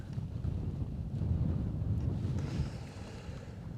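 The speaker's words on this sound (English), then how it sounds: "I feel like I'm constantly waiting on the wind to stop." Wind gusts blowing across an open outdoor landscape in the Eastern Sierra, a steady low rumbling buffet against the microphone that swells midway and stays loud throughout, with no voices.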